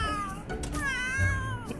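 A cat meows in The Sims 3, a short plaintive game-animal call that rises and falls in pitch, heard alone and fairly soft.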